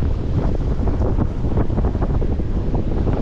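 Strong wind buffets the microphone on a beach during surf fishing for bass, a loud continuous low rumble with surf noise beneath, no talk.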